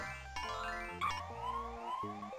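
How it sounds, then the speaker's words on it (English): A faint, synthetic ambulance siren in the video game Putt-Putt Joins the Parade, with shifting, stepped tones and a rising wail, brief and electronic-sounding, with no talking. "A little ambulance car that passed by."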